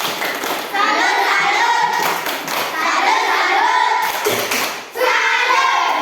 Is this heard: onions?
no